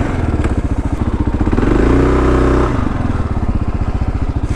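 A 2023 Kawasaki KLR 650 dual-sport motorcycle pulls off a trail, its single-cylinder engine thumping close and loud, with a brief steadier rise in revs midway before settling back to a rough idle-like chug.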